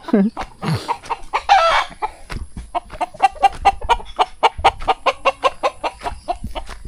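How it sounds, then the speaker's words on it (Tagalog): A rooster clucks in a rapid, rhythmic series of close, sharp calls, with a louder crow-like squawk near the start and some voices briefly mixed in. "Tandang na, tandang."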